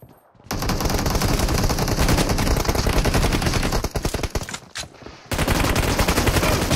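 Rapid automatic gunfire from the video game PUBG Mobile rattles in long loud bursts, a dense machine-gun stream with a brief pause midway and a short gap before firing resumes.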